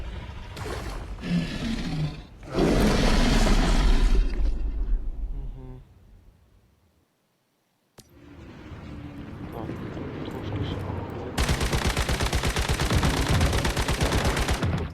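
Gunfire in the mobile video game Once Human during a boss fight with the Shadow Hound: loud, dense bursts of shooting, a drop to near silence partway through, then rapid sustained firing resumes and continues to the end.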